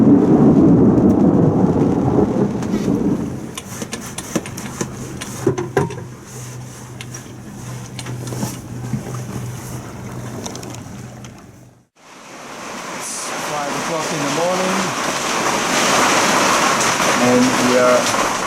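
A thunderstorm hits a sailboat at anchor with gusts to 35 knots and heavy rain: a steady roar of wind and rain, a brief lull near the middle, then a strong roaring wash again, loud and close throughout.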